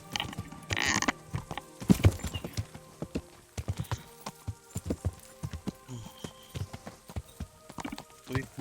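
Horse hooves clip-clopping on the ground in the video game Kingdom Come Deliverance, a steady close rhythm of hoof strikes continuing throughout over game music and ambient sound.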